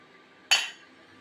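A single sharp metallic clink of a spoon in a pot while mixing sabudana khichdi rings out once and fades quickly against near silence.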